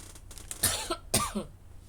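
Two close, harsh coughs in quick succession, loud and near, with a soft breath between them and no talking.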